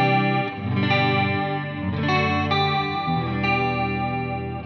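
Electric guitar chords and single notes ring out through the clean tone of a NUX Mighty Plug MP-2 amp modeler, steady and full, with a light chorus shimmer and no talking.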